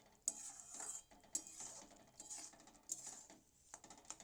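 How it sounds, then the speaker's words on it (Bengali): A pan of jhinge aloo posto with mustard oil being stirred, with soft scrapes and repeated light metallic clinks of a utensil against the pan, quiet and close. "একটু নেড়ে ছেড়ে দেবো যাতে তেলটা চারিদিকটা মিলে যায়"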